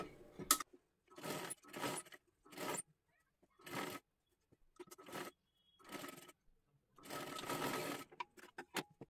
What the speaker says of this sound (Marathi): आता हे आपल्याला आतल्या बाजूला पलटी करून घ्यायचा आहे अस्तरचा कपडा आणि एकदम कडेकडेला इथे शिलाई मारून घ्यायची आहे गळ्याच्या बाजूला